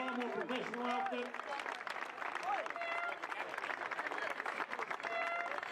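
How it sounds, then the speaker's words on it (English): Crowd at a Caribbean Cup rugby awards ceremony in Bermuda applauds head coach Jamie Barnwell, a steady wash of clapping with scattered shouts and voices running through it. "Let's give Jamie a round of applause"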